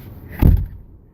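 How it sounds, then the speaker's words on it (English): A single car door slams shut on a 2010 Toyota Prius in freezing snowy weather, one short, loud, close thud rising from a quiet background. "Close the damn door!"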